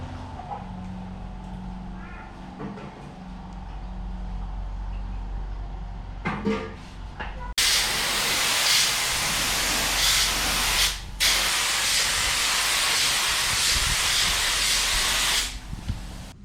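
Primer is sprayed from a spray gun onto a Nissan S13 Silvia body, a loud, close, steady hiss lasting several seconds with one brief break, preceded by quieter shop noise and faint handling sounds.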